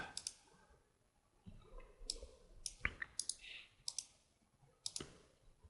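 A computer mouse clicks while editing photos in Adobe Photoshop, giving a scattered run of sharp, close clicks, some single and some doubled, over a faint room hush with occasional soft background movement.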